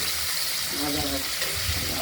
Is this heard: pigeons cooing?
no